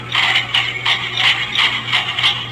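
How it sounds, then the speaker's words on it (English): A Build-A-Bear toy's built-in horse sound plays trotting hooves, about nine quick bright clops in a steady even rhythm, loud and close, with a faint electronic hum underneath. "Sounds like a trot."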